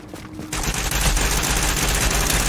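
An enemy Lone Star in The Division 2 opens fire on the player, a loud, dense burst of continuous automatic gunfire that starts abruptly after a brief quieter moment.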